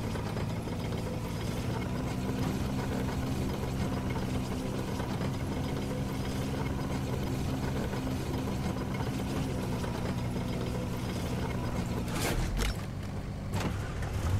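Car engine in the battle-royale game Cyber Hunter, a damaged vehicle whose boost no longer works, droning steadily and close for the whole stretch, then a brief clunking disturbance near the end, with no talk over it.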